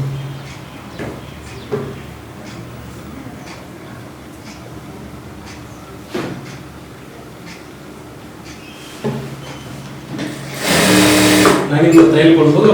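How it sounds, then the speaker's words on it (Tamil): A domestic sewing machine stitches the front of a blouse in several short bursts separated by pauses, ending in a longer, louder whirring run, with a person talking between the bursts. "இப்போ ஃப்ரெண்டு தைச்சிக்கலாம்"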